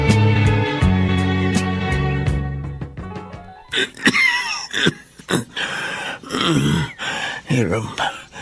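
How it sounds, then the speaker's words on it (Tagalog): Several harsh, heavy coughs break out one after another, loud and close, following a stretch of sustained tones and chimes. "Hirap na ako sa ubo ko."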